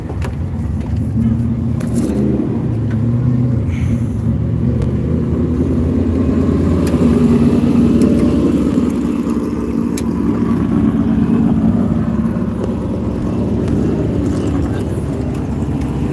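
Super trucks race in the main event at Vado Speedway, their engines making a continuous loud rumble and drone that rises and falls as they circle the track, with spectators' voices mixed in.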